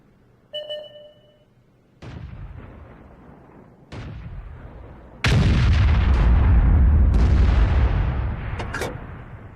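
Heavy artillery fire from an M41 HMC self-propelled gun in a tank battle video game: a short mechanical clank, then booming high-explosive shots and a massive blast whose rumble stays loud and slowly fades over several seconds.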